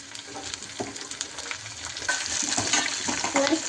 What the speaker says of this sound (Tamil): வெங்காயம் போட்டுக்கலாம். வதக்கிக்கலாம். கருவேப்பிலை போட்டுக்கலாங்க.